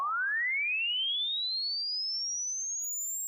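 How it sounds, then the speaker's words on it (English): A pure sine tone sweeps steadily upward in pitch for several seconds, clean and alone, with aliasing as it folds over at a lowered sampling rate. "as I lower that sampling rate, we'll start to hear and see it folding over at a certain point"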